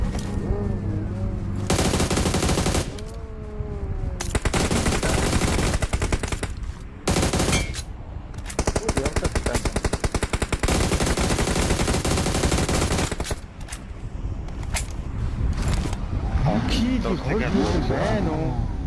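Video game gunfire, loud bursts of rapid automatic shots in long stretches separated by brief pauses, with a vehicle engine rumbling and players talking over the action.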